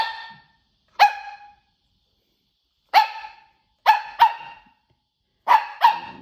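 A pet puppy barks indoors in six sharp, close barks with silent gaps between them, the later barks coming in quick pairs.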